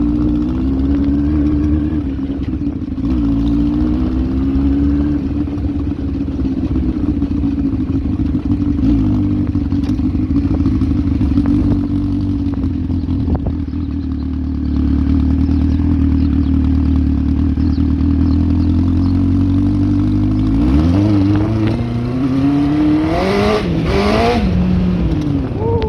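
A scrapped Yamaha Fazer 1000cc motorcycle runs after a cold start, its loud close engine holding a steady drone before climbing through several sharp revs near the end.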